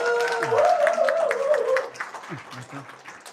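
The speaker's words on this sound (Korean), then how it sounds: "자, 큰 박수" Audience applause at a local governance forum greeting a university professor, scattered clapping from the crowd that fades out partway through, with people talking over it and some rising vocal sounds.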